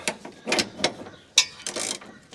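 A wrench ratcheting a bolt tight on a Holden HK idler arm, a few short metallic clicking bursts with gaps between strokes, close and fairly loud.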